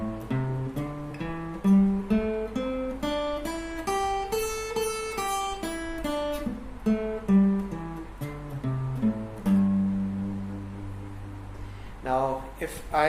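An electric guitar slowly picks a pentatonic scale shape note by note, climbing and then descending in a steady, unhurried rhythm; clean, close and moderately quiet, ending with a brief strum.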